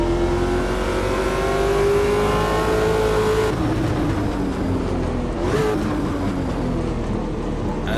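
A 5.7 liter V8 car accelerates hard on a race track, a loud rising engine howl climbing in pitch before a gear change drops it, then revving again with a brief upshift near the end.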